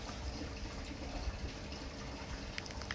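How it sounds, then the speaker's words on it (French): A small stream of flowing water, a quiet, steady trickle and burble with faint splashy bubbling, heard close by and alone in otherwise calm surroundings. "Le ruisseau, avec l'eau qui coule."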